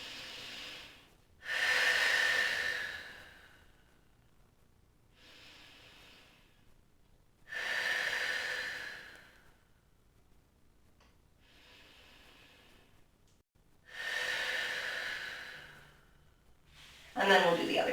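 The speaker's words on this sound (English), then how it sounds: "Take 3 deep breaths here." Three slow, deep breaths taken while lying on one side in a hip stretch, each long audible inhale and exhale close to the microphone, separated by quiet pauses.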